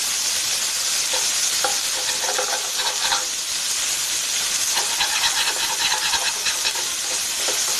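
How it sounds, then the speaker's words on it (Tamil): Onions frying with salt in a pan, browning for a Kerala-style brinjal vindaloo, give a steady dense sizzle and hiss with occasional stirring scrapes, close and loud throughout, no voices. "நல்லா ஃப்ரை ஆகட்டும்"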